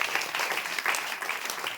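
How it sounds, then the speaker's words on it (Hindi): Church congregation clapping loudly during an Easter sermon, a dense, sustained burst of applause filling the whole moment with no voice over it. "ताली बजाइए जोर से।"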